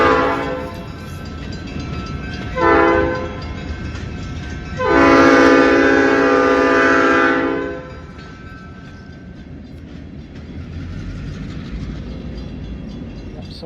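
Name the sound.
passing train with horn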